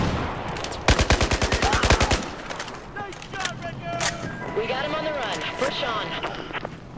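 Rapid automatic gunfire bursts loud and close in Battlefield 4, a fast regular volley followed by scattered shots, with a player talking over the later part.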